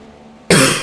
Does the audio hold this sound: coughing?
yes